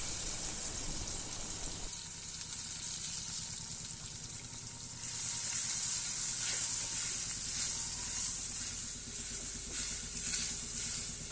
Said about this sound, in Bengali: এদিকে তেলের মধ্যে মশলাগুলো ঢেলে দিলাম পেঁয়াজ কুচি তো একদম গরম হয়ে গেছে তেলগুলো